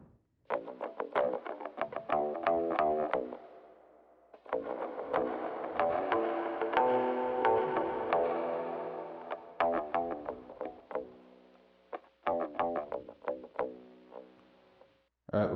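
Speech-like phrases run through a Roland VT-3 Vocal Transformer's distorted megaphone-style effect with added reverb, the sound smeared and trailing between bursts, with brief pauses throughout.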